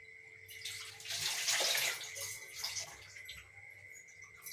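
Dates are rinsed under running water from a tap, with a steady splashing rush that swells in the middle and then settles into a gentler flow with small drips and handling noises.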